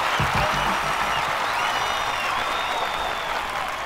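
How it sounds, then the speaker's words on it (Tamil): An audience claps and applauds in a steady, dense wash of sound that holds at full strength for a few seconds, greeting a speaker in a Tamil dubbed film scene. "உங்களோட இந்த கைத்தட்டல் நான் சம்பாதிச்சது கிடையாது"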